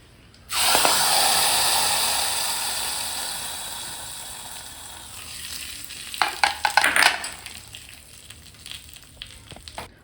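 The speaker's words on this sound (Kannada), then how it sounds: "ಒಗ್ಗರಣೆ ಹಾಕ್ತಾ ಇದ್ದೀನಿ" Spices for tempering hit hot oil in a pan with a sudden loud sizzle that slowly fades, followed by scraping and stirring clatter near the end, for a dal-based greens saaru.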